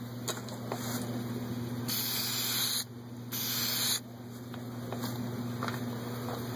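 A spray can applies polyurethane finish to a wooden piece during a restoration, with two long hissing bursts between shorter spurts, close and fairly loud over a steady background hum.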